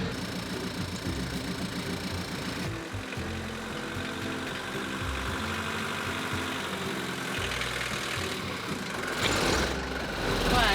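Diesel engine of a camper van starting and then idling, a loud, close, continuous low rumble with a steady pulse that shifts in tone partway through and ends with a brief rise.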